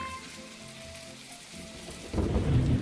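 Rain in the game My Time at Portia, a soft hiss of falling rain beneath faint musical tones that swells into a louder, heavier rush of rain near the end.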